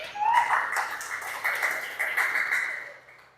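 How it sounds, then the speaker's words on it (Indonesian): A classroom group of students clapping their hands together, a brisk burst of many claps close by that rises quickly, holds, then tapers off near the end. "tepuk tangan semuanya"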